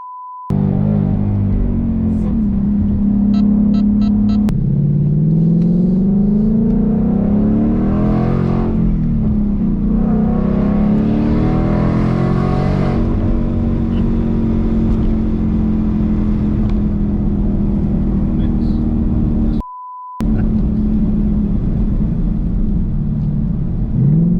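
A supercharged Shelby Mustang engine revs hard under acceleration from inside the car. Its loud throaty roar climbs through gears, with a shift around a few seconds in and a brief dropout near the end.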